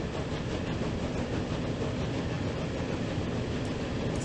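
A train in the Transport Fever 2 game runs on rails with a continuous, dense rumble and faint clickety-clack that stays steady and fairly loud from start to finish.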